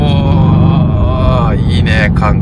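A supercar engine accelerates inside the cabin, a loud sustained harmonic drone that rises and then shifts around 1.5 seconds. People talk excitedly over it.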